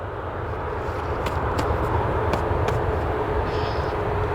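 An aircraft passes over a plane-spotting area at Portland in wild weather. It makes a broad, steady low roar that stays loud throughout, with a few faint clicks and tones over it and no talking.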